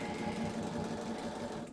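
A sewing machine runs steadily, stitching Halloween quilt pieces together in a continuous, even mechanical whir with a fast rhythmic hum, close and unbroken throughout, with no talking.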